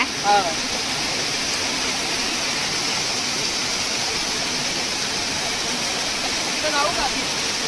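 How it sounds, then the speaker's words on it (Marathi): Heavy rain water pours down from above in a dense, steady roaring wash with no break, loud and close, during a monsoon fishing outing. "एवढं वरून पाणी पडतं एवढा जबरदस्त पाऊस"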